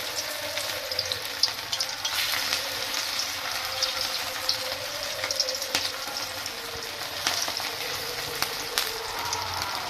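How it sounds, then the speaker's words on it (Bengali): Sago pakoras fry in hot oil over a low flame for an Ekadashi dish, giving a steady, even crackling sizzle with scattered small pops throughout, no voices. "তেলটা গরম হয়ে গিয়েছে, এইবারে আমি আস্তে আস্তে পকোড়ার আকারে এই পকোড়াগুলো দিতে থাকবো"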